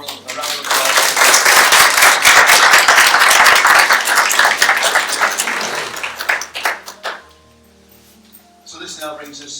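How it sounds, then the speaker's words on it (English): Wedding guests applauding at a ceremony, a dense burst of close clapping lasting several seconds before thinning out and stopping, with a voice resuming speech afterward. "Let's give Norma a round of applause."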